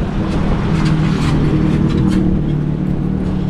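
Cars on a street at night in Lima, Peru, with a loud, steady engine and tire rumble from nearby traffic and no voices.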